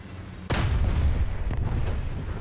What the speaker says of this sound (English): And that gun does make a hell of a big boom.